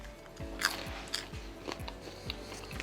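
Someone bites into chocolate and peanut butter coated popcorn, giving several faint, close crunches followed by soft, rhythmic chewing.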